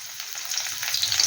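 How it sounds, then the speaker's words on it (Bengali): Garlic frying in oil in a wok for chilli baby corn makes a continuous close hiss and crackle that grows slightly louder over a brief moment, with no voices. "রসুনটা একটু হালকা করে ভেজে নেব।"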